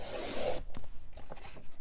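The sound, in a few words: cutting peach pattern paper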